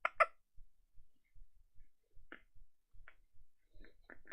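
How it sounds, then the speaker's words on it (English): Several small hiccups come from a person, short faint bursts spaced irregularly across a quiet room with soft low thumps between them. "You got hiccups?"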